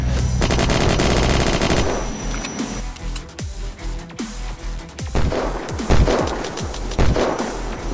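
Automatic gunfire in Unturned, with a fast burst of rapid shots at the start and then scattered single and double shots that crack loudly at irregular intervals.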